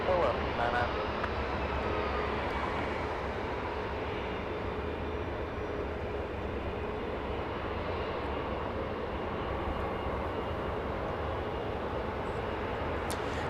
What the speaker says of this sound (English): All right, we go for exec jets, Gulfstream G650.